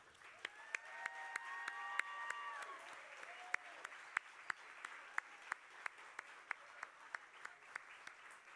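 A graduation ceremony audience applauds the graduates with scattered, fairly faint clapping from a crowd, some individual claps standing out sharply above a diffuse wash, with a brief tonal squeal early on.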